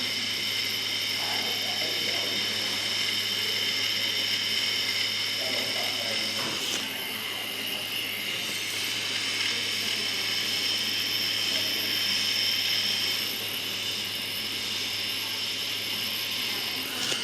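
Tattoo machine with needle running steadily while contouring skin, a continuous close mechanical buzz with a high whine, constant throughout and without pauses.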